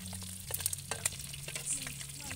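Garlic frying in a pan for liempo adobo gives a close, crackling sizzle over a low hum, with quick pops and a few utensil scrapes in a short burst.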